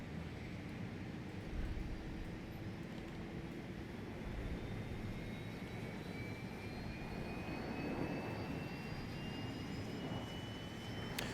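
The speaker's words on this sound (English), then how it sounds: "Take a listen to the BSS engine sounds here." IAE engines of a Toliss A319 in a flight simulator drone steadily throughout, a loud, even jet roar with slowly gliding whine tones and no talk.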